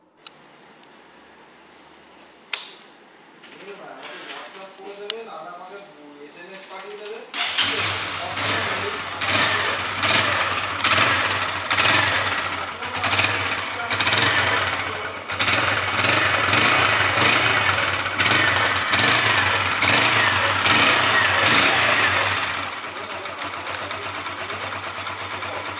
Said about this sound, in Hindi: चलिए दोस्तों, इसका इंजन एंड एग्जॉस्ट का साउंड सुनते हैं।